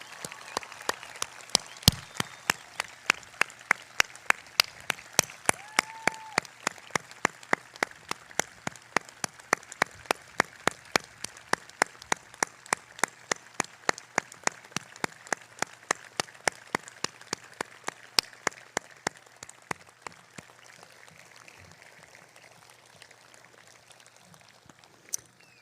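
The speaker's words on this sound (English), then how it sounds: "giving them a round of applause" An audience at a Class of 2020 high school graduation ceremony applauds graduates enlisting in the military, with sustained, fairly distant clapping lasting about twenty seconds before gradually thinning out.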